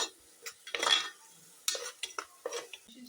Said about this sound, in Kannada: ಇದನ್ನು ಒಂದು 2 ನಿಮಿಷ ಫ್ರೈ ಆಗ್ಲಿಕ್ಕೆ ಬಿಟ್ಕೋಬೇಕು